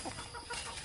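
A chicken clucks close by in short, irregular bursts, with no other sound over it.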